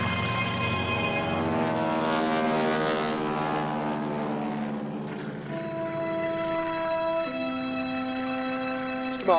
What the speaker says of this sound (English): Plane taking off for Nepadu? Yes, it's just taking off.